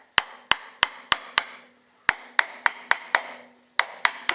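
A bolt is tapped into place on a Chevrolet C10 carrier bearing, giving a dozen or so sharp, close metallic knocks in uneven clusters with short pauses between them.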